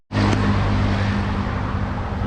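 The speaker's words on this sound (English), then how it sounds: "You see all the cars driving, Chevrolet, Chevrolet." Chevrolet cars driving past on a Tashkent street, a loud continuous road roar and tyre noise that rises abruptly and holds steady, with low engine hum underneath and no voices.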